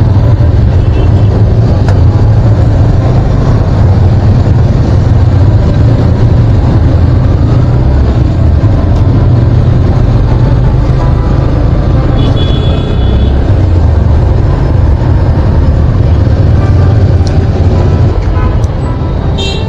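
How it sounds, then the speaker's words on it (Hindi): Road traffic in Hinjewadi recorded from a moving motorbike, a loud continuous engine and wind rumble with passing vehicles blending into a dense, unbroken drone. "हिंजौड़ी का ट्रैफिक दुनिया में एक नंबर।"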